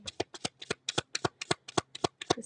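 Playing cards being shuffled in a quick riffle, a rapid run of crisp flutters and snaps in close, even bursts, alone and near.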